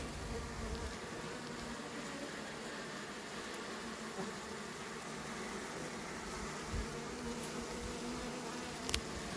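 Honeybees at the hive drone in a steady, dense buzz, many insects humming together close by without pause, with a faint tick or two of handling over the continuous swarm.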